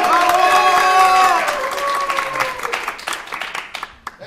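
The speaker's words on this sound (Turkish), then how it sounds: "Alkışlıyorum sizi. Bravo!" A studio audience at a comedy show bursts into applause, a brief cheer and shouts over the first second, then dense clapping that thins out and fades to scattered claps.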